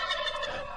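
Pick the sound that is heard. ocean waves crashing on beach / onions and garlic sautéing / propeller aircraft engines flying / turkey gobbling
turkey gobbling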